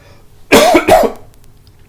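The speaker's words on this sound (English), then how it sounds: "I'm gonna cough" Two quick, loud coughs close up, one right after the other, then quiet.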